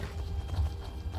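Steady hoof clip-clops from a trotting horse in the video game Skyrim, a quick even rhythm of muffled thuds that continues for about a second.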